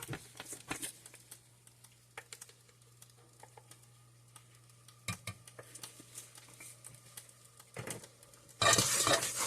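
Spoon stirring a sweet potato mixture with vanilla and cinnamon in a pan, soft scraping and clinking strokes at close range over a steady low hum, ending in a brief loud burst of sizzle.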